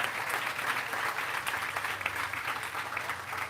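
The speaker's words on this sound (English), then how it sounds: "Give them a big round of applause." A crowd at a life achievement award event gives a round of applause for the organizers from the Human Relations Commission, steady continuous clapping heard somewhat distant and moderately quiet.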